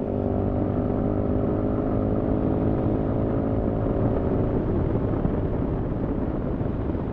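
A 2020 Sinnis Terrain 125 motorcycle rides steadily, its small single engine droning in a continuous, loud hum mixed with wind rush and no voices.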